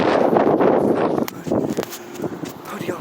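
Strong wind gusts outdoors on a walk home through a city, roaring and buffeting the microphone and easing off partway through, with a few scuffs like footsteps.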